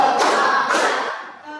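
A classroom of students claps hands together in a counted clapping game, a few sharp bursts of group claps mixed with chanting voices, close and fairly loud, fading toward the end.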